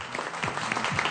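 Studio audience at a Pakistani TV game show clapping together, a steady broadband wash of applause lasting about a second at moderate loudness.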